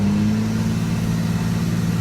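A bus is driven along a road with a steady, droning engine hum and road noise filling the cabin, constant and close throughout with no voices.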